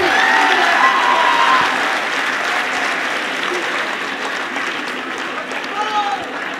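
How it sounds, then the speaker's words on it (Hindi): An audience at a Hindi poetry gathering breaks into loud, sustained applause after a sung poem, with crowd clapping close by and a voice speaking over it. "जोरदार तालियां।"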